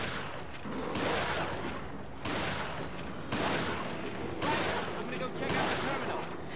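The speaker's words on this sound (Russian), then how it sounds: "у меня салют, по ходу дела, где-то на улице" Rapid bursts of crackling and popping from fireworks outside, loud and dense, arriving in several waves with short gaps between them.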